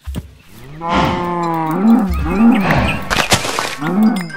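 Cows in the video game Minecraft moo loudly and close, several long, low, repeated calls overlapping in quick succession with no talking.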